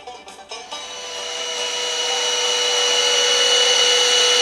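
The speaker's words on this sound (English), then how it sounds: "Stop the vacuum. Stop it." A vacuum cleaner motor whines steadily close by, starting with a few brief bursts before settling into a loud, continuous drone that slowly grows stronger, with no talking.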